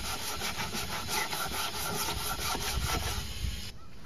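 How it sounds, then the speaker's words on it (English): Hand sander smoothing wooden parts of a minivan TV mount: continuous steady rubbing and scratching abrasion close up, running evenly for several seconds before easing slightly at the end. "Came back with a hand sander just to get a little bit more work done, smooth some of the hard to reach places"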